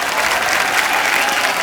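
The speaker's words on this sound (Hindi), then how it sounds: "उसके लिए पहले जोरदार तालियां।" Loud, dense clapping from a television comedy show studio audience, close and continuous for a brief burst.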